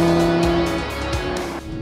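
A 2016 Audi TT RS with its inline five-cylinder engine pulls hard on an open road, a steady, loud engine drone with shifting harmonics and a brief dip near the end, heard continuously with no talk.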